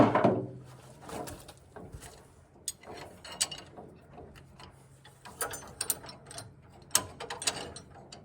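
A winch reels its cable through a snatch block during an off-road recovery, giving a run of irregular mechanical clicks, ratcheting and clanks, moderately close, with no talk.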